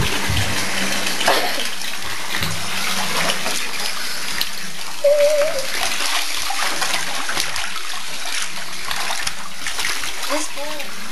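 Water splashing and running in a Webkinz pool game, a steady broadband wash lasting throughout with brief brighter splashes, while a voice talks over it.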